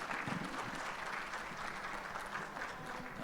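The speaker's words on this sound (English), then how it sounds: "Everybody give him a big round of applause." Steady applause from a seated audience at a planners' symposium in Guam, a dense, even wash of clapping heard from a distance and held for several seconds.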